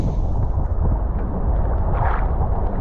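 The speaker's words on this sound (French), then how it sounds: "le vent il se lève comme vous pouvez le voir" Strong wind buffets the microphone in a loud, steady broadband roar at a black pearl farm by the sea, with a brief gust swelling near the end.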